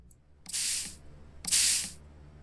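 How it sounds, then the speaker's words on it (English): Two short bursts of liquid spray hissing onto a dinosaur fossil replica's matrix to soften it, each about half a second long, close and fairly loud, with quiet pauses between. "You just sort of spray until it turns yellow."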